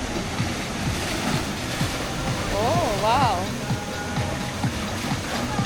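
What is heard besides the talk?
sea waves on a beach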